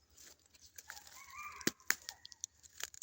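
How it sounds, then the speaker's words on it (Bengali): Chickens calling from a garden on a foggy early morning: a few short, faint, distant clucks and crowing calls in otherwise quiet surroundings, with no one talking. "মুরগির ডাক শোনার লেগে আইছি"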